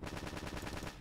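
A blaster weapon fires in the Battle Engine Aquila video game, a rapid, steady burst of repeated shots that is fairly loud and fills the whole second.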